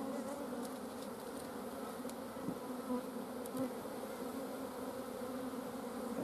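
Honey bees buzz steadily around an open hive during a winter brood inspection, a close, continuous hum with a few faint clicks and knocks.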